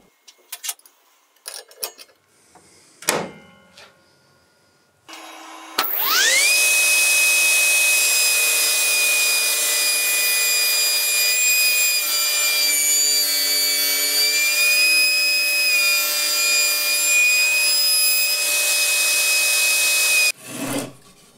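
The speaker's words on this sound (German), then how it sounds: "Dazu säge ich mir aus einem dicken Leimbinder eine Scheibe ab" A saw cuts a slice from a thick glued laminated timber beam in a woodturning workshop. A few scattered knocks and handling sounds come first, then the blade runs in a loud, steady whine for about fifteen seconds before stopping abruptly.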